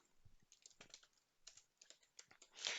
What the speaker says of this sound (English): So we can go ahead and type that here in the find box.